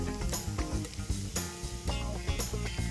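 Onions sizzle steadily in hot oil as they fry toward golden for dhaba-style malai daal, a close, continuous crackle with occasional stirring bursts.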